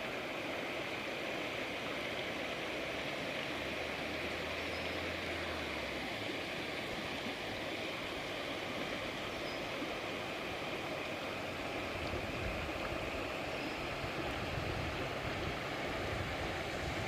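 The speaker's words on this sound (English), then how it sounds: "The water, a beautiful sound of a running stream." A running stream in a natural outdoor setting, a steady broadband wash of flowing water that stays constant and moderately loud throughout, with no voices.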